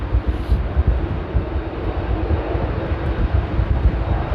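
An airliner at Amsterdam airport, likely a Delta A330-300 heading out from runway 18 left in stormy weather, gives a steady, loud low roar with broadband rumble throughout, heard alone with no speech.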